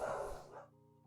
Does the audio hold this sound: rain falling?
no